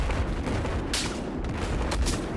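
Battlefield 4 battle audio with sniper fire: a continuous roar of distant gunfire and rumbling explosions, punctuated by several sharp, louder cracks spaced roughly half a second apart.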